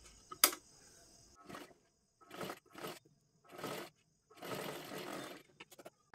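A sewing machine stitching saree fabric for a one-piece dress runs in several short bursts of whirring, each lasting under a second, separated by quiet pauses, fairly close and moderately loud.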